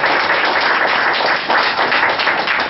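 Audience applause at an art conference, a dense steady wash of many hands clapping at close range that runs without break and with no voices on top.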